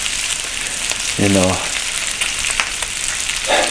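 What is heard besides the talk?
bacon frying in a carbon steel pan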